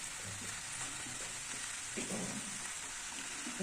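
Boiled potato filling for bread pakora sautés in a pan, a continuous soft sizzle with intermittent stirring and scraping, close by and fairly quiet.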